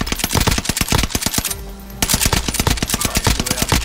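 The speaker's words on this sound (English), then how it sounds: "What the fuck's shooting at me?" Rapid automatic gunfire in a shooter video game, loud and close, with bursts of fast evenly spaced shots, a brief half-second pause, then sustained firing again.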